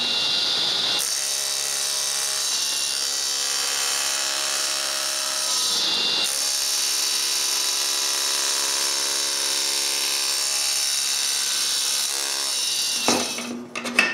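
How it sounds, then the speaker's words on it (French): Aluminium plates having a corner cut off for a CNC machine modification, a loud steady high-pitched whine of a power cutting tool that runs continuously, broken by one short dip partway through, then stopping abruptly at the end with a clatter. "La première chose à faire est de leur couper un coin au bas."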